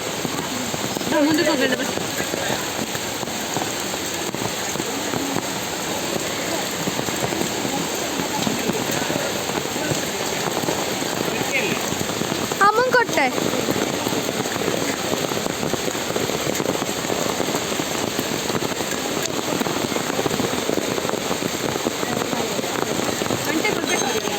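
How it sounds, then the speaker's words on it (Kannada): Steady heavy monsoon rain hisses across the whole recording, a dense continuous wash with a brief sharper burst partway through. "ಸೌತಡ್ಕ ಬಂದರೂ ಮಳೆನೇ ಕಡಿಮೆ ಆಗಲಿಲ್ಲ"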